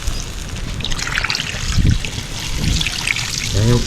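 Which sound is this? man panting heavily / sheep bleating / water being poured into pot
water being poured into pot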